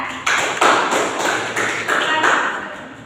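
Classroom applause for a classmate, a short burst of clapping from a group that starts abruptly, holds as a dense patter, then tapers off.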